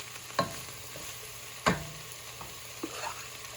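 Sausage, peppers and onions fry in a pan, a soft steady sizzle broken by a few sharp scraping clacks as a utensil stirs them, close and fairly quiet.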